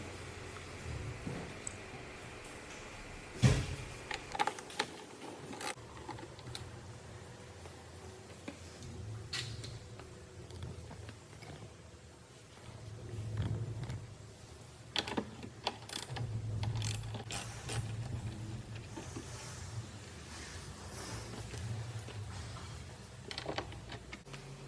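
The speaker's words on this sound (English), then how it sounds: "we will be unscrewing the bolts using a 10mm" Bolts being unscrewed with a 10mm socket wrench on a 2021 Subaru Impreza, giving repeated close ratcheting clicks and small metallic taps in irregular bursts, with no talking.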